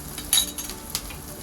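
Grated coconut frying in coconut oil over a medium flame for Kerala sambar, giving a soft sizzle while a utensil scrapes and clinks against the pan in two sharp strokes.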